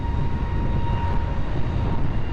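A Turkish Airlines Airbus A321neo rolls for takeoff at Lisbon Airport, a loud, steady jet engine roar with a rumbling low end and a faint whine, heard continuously from fairly close.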